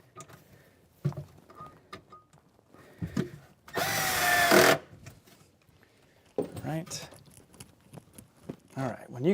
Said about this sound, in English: So we're gonna add 2 more screws just